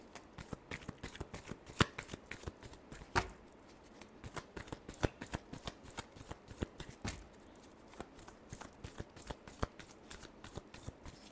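Tarot cards being shuffled by hand make a quick, rhythmic patter of crisp, close-up flicks and snaps that continues steadily with no talking.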